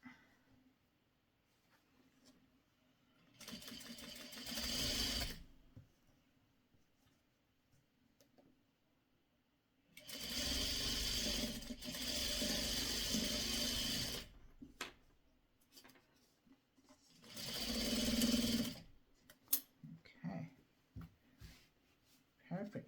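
Sewing machine stitching quilt fabric from a Christmas tree quilt kit, three bursts of rapid, even mechanical clatter of a few seconds each, separated by quiet stretches with soft handling noises.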